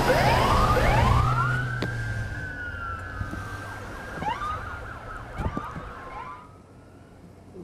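Wailing sirens from a line of police cars and ambulances pulling away from a scene, loud at first and then fading as the vehicles move off, with overlapping siren sweeps and one brief spoken word.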